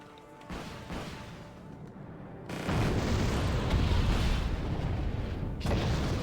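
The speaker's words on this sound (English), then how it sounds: "I'm gonna airstrike them anyway" Airstrike explosions in the strategy game Wargame: Red Dragon: a rumbling blast, then a much louder, sustained roar of detonations that keeps booming to the end, close and heavy.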